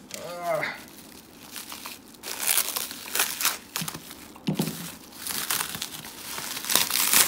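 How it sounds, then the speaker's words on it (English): Plastic wrap crinkles and crackles in close bursts as it is pulled off trading card booster packs, with faint speech between the rustles. "Plastic wrap off."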